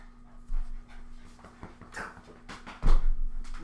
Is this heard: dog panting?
yes